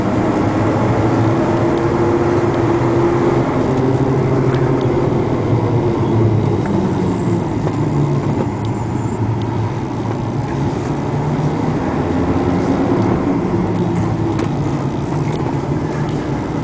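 A 2001 Chevrolet truck engine idles steadily outdoors, a continuous low mechanical rumble with a faint hum on top, no talk over it.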